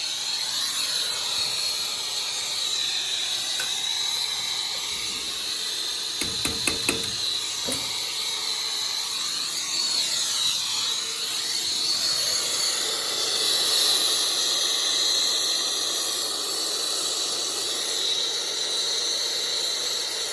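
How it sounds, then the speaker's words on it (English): Steady hiss of steam escaping from water trapped in a heated copper line of a Slant Fin #30 hydronic baseboard during soldering, loud and continuous throughout, with a brief burst of small clicks partway through and no talking. "You know that steam coming out? That's water in the line."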